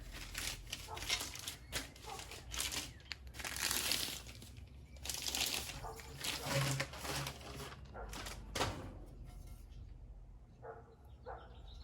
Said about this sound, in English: Each one's wrapped up in a plastic bag.